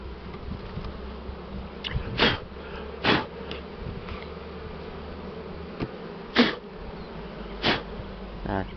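Honey bees buzzing around an open hive while frames are handled, a steady close drone with several short, louder bursts as bees fly past, no talking.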